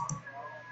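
A single soft mouse click near the start on a computer, followed by a faint electronic hum with no voices.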